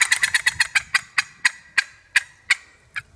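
An excited fly-down cackle of loud clucks from a turkey box call imitating a hen starts fast and gradually slows, each note sharp and distinct, close and clear.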